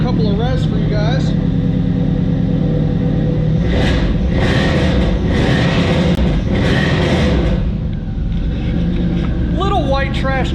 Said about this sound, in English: Give her a couple of revs for you guys.